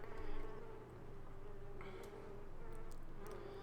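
Bees buzz steadily in the fantasy game Sorcery!, a continuous close drone of insect wings with a faint ambient hum beneath, no voices.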